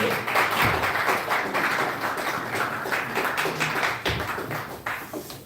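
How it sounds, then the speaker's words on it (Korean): Audience at a Christian pastors' forum general assembly applauding to welcome a speaker: a thick, sustained crackle of many clapping hands, fairly loud and close, rolling on unbroken with no talk over it. "큰 박수로 맞이해 주십시오"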